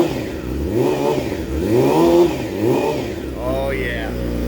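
Revving engine of a 2012 Yamaha YZF-R6 sport bike with stubby undertail exhaust, rising and falling through several throttle blips close by, followed by a sharp high rev.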